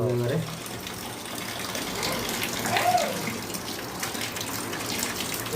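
Tap water runs steadily over tilapia fish and chicken being washed, a continuous splashing gush, with brief voice sounds near the start and middle.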